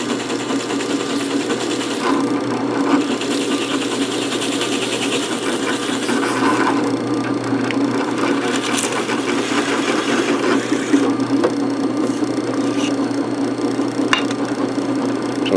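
A drill bores all the way through a wooden board in a workshop, producing a continuous, loud, steady mechanical whir with a rough, grinding texture that runs for the whole stretch without pauses.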